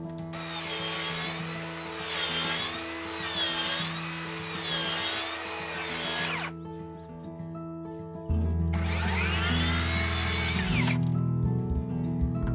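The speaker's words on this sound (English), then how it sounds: "After that, I chamfer only the rabbet that comes on the front side." A power tool chamfers the rabbet edge of a cedar siding plank, running in two close, loud bursts with a brief lull between them and no talk.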